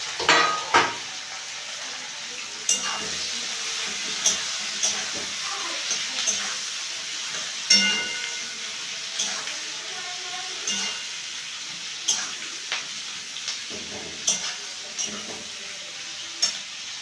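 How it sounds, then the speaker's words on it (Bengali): Onions fry in a pan for a meat curry, with a soft steady sizzle under frequent stirring scrapes and spatula clinks against the metal, and a voice speaking at times. "এখন পেঁয়াজগুলো ভেজে নেব।"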